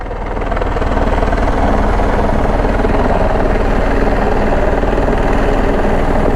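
A Twin Squirrel helicopter flies in a supply load, its loud, steady rotor and turbine roar building in the first second and then holding close and continuous, with a rapid rhythmic blade chop underneath.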